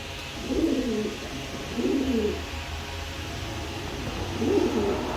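A pigeon cooing nearby, three soft throaty coos spaced about a second apart, alone over faint background hum.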